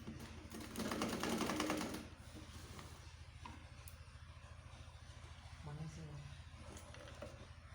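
A sewing machine stitches closed the armhole of a gown, its rapid mechanical whir running steady and close throughout, louder for a brief burst near the start, with a person talking over it at times.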